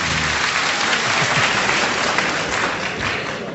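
Studio audience at a televised debate at the economics and management faculty in Bamako bursts into steady, dense applause that fills the whole moment, loud and sustained without a break.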